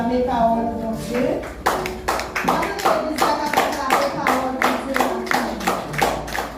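A worship congregation claps in a steady, rhythmic beat, the sharp hand claps repeating quickly and evenly over voices singing or calling out throughout.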